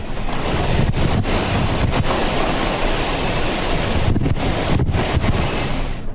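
Hurricane Michael's hurricane-force wind on the Florida coast, roaring loud and steady against the microphone with buffeting gusts and surf-like rushing, no voice heard.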